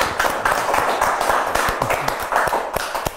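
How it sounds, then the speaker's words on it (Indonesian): Studio audience clapping to welcome a guest on an Indonesian talk show, close and loud, with distinct individual claps and uneven rhythm rather than a dense roar. "Kita sambut dengan tepuk tangan yang meriah."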